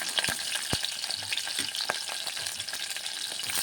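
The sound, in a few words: onions and green chillies frying with whole garam masala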